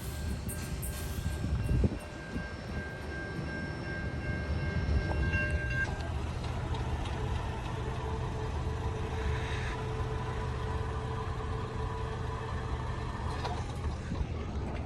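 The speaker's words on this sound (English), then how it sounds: "A really slow and long mixed train you can see here." A long mixed freight train rumbles past at slow speed at night, a long steady roar of wheels and cars with squealing and clanking, loud and close throughout.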